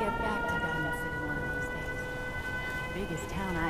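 A steady Fallout 4 settlement alarm siren blares with sustained, layered tones at moderate volume, holding constant over a low background rumble.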